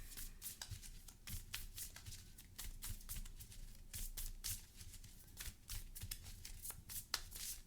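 A deck of playing cards shuffled by hand during a Marvel Champions card game, giving repeated crisp riffling bursts in an uneven rhythm, close and moderately quiet, with no talking.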